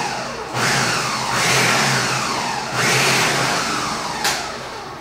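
Ninja food processor pulsing garlic, ginger and napa cabbage for dumpling filling: two loud whirring bursts of motor spin, each swelling and easing off, close up with no talk.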